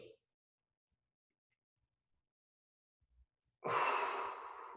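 A single long exhale during a seated postural mobility exercise comes after near silence, a close, breathy release lasting about a second.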